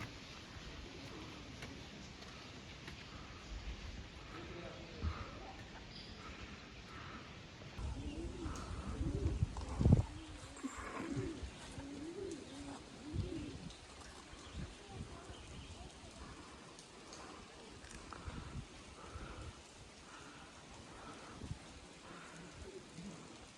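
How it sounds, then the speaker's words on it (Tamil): Pigeons cooing along a hiking trail in an Ohio state park, soft low coos scattered over a steady outdoor background, with people talking at times. "புறா புறா பயப்படாதீங்க."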